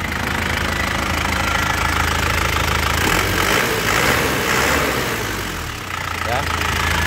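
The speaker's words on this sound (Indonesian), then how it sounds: "Kita nyalakan mesinnya yuk. Ya sekali langsung cegreng ya untuk mesinnya." A black 2006 GT car's engine runs at a steady idle with a knocking mechanical rhythm, loud and close, with a slight dip in the last seconds and faint talk underneath.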